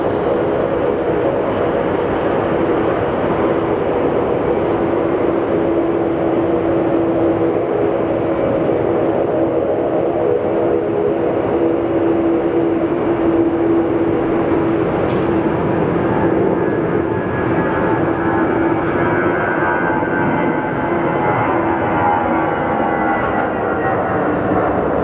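An American Airlines jet at Phoenix Sky Harbor Airport gives a steady, loud, broadband roar with a low whine, holding level for the whole stretch and rising slightly in pitch toward the end, with no talk.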